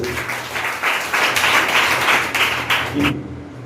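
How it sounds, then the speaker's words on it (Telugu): A church congregation claps loudly in a sustained burst of applause that swells and then stops abruptly near the end. "కొట్టు చప్పట్లు గట్టిగా"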